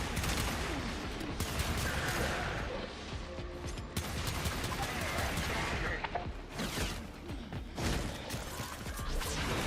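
Heavy-recoil gun in a video game firing in dense bursts amid constant clattering mechanical noise and crashes, loud and close throughout, with a voice talking over part of it.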